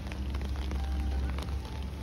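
Rain falls steadily outdoors in a city street in northern England, a continuous dense patter of drops with a low rumble underneath, close and even throughout.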